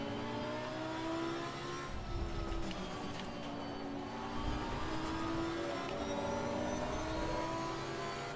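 A GT3 race car engine revs and drones at Kyalami in Assetto Corsa Competizione, with sustained rising and falling pitch as it accelerates and shifts, loud and continuous.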